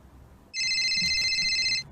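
A single electronic mobile phone ringtone burst sounds clearly for just over a second, high and bright, over a low background hum.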